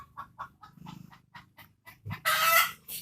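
Chickens cluck in short repeated bursts nearby, ending with a loud, harsh squawk.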